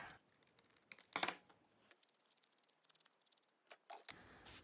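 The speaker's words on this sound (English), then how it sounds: "So I'll just trim that off." Scissors snipping a paper craft tag, a quick run of small crisp cuts trimming off the edge, faint and close with short ticking snips spaced through the moment.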